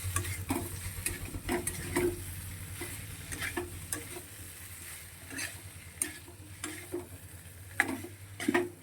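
Spice masala being sautéed in a pan over a very low gas flame, with a steady soft sizzle and repeated scraping stir strokes at an uneven rhythm, close and fairly quiet.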